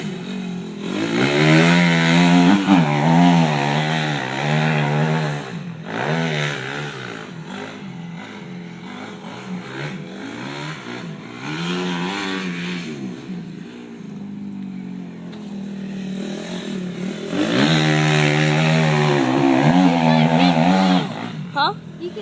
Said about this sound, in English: we're doing a video today of this guy driving a dirt bike